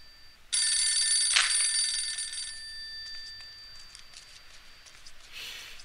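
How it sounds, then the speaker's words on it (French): An old-style telephone bell rings loudly in the Postal 2 video game, a bright sustained trill that starts abruptly, then fades into softer repeated rings and room ambience. "Il y a un téléphone qui sonne"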